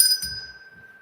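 A little bell is rung once during a livestream, a bright, clear high ding at the start that rings on as a fading tone, with faint low thumps beneath.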